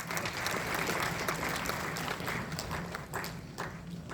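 An audience applauding to welcome a speaker at a stage event, dense steady clapping from a crowd filling the whole moment, fairly loud and unbroken.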